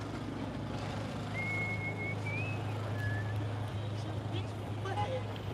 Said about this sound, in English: Oops, I was whistling a song there.